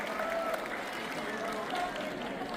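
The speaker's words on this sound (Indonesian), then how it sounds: "Mantap, aplaus buat Anda semuanya ya" Seminar audience applauding, a steady rush of many hands clapping at moderate volume, with a voice talking faintly over it.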